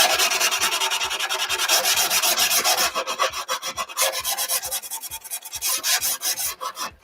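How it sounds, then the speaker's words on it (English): Sandpaper rubs briskly along the edges of a wooden cutting board, a loud, continuous rasping that breaks into quick rhythmic back-and-forth strokes, close up and without speech. "I'm also going to sand my edges"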